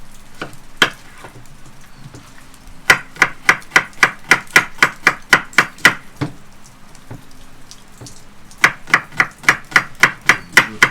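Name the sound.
chopping onions with knife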